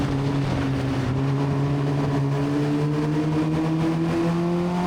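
Formula Vee race car heard onboard at the Anglesey circuit, its engine note loud and steady and slowly rising in pitch as it accelerates, with no talk over it.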